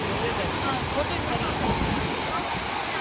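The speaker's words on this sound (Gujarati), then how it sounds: "પાણીનો અવાજ કેવો જબરજસ્ત આવે છે" Loud, steady rush of water pouring over Sasoi dam, a dense continuous roar close by with no pauses from start to end.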